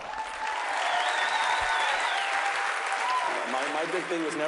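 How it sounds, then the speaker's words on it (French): An audience breaks into steady, full applause that holds loud throughout, with a voice speaking over it near the end. "Et maintenant, applaudissons Jared Fogle."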